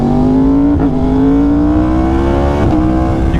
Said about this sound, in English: The sweet, sweet sounds of the 2020 R1 SC Project exhaust.